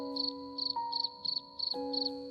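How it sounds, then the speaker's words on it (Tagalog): Crickets chirp at night in the Philippine countryside in quick, regular pulsing trills, clear and fairly close, over a steady background drone. "Pagdating ng gabi, kuliglig ang background music."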